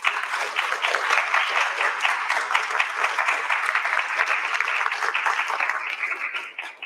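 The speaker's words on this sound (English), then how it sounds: "if we can just give all our poets another wonderful round of applause as well" An audience at a science-inspired climate poetry event gives the poets a sustained round of applause, dense clapping that holds steady and tapers off at the end.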